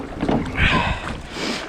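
Small inshore fishing boat pushed fast by strong wind, steady rushing wind buffeting the microphone with water sloshing against the hull, close and continuous.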